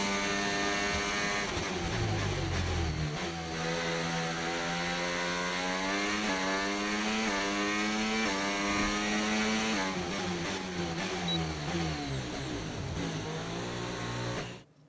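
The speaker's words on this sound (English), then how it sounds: "I've already told Casper, let the car run a little wider out of turn 4." A Formula 1 race car engine in the F1 25 video game whines loudly and continuously, rising in pitch through repeated upshifts with brief dips between gears, then cuts off at the end.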